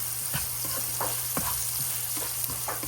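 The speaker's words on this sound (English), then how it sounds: "So fry it well" Cumin seeds frying in hot oil in a pan, giving a steady close sizzle with soft stirring scrapes and small crackles, with no voices.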